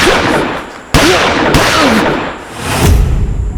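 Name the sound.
gunshots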